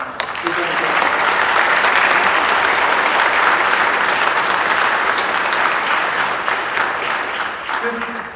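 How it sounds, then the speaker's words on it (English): An audience at an energy town hall applauds a panel with loud, sustained clapping that holds steady throughout and tapers slightly at the close. "please join me in applause for our"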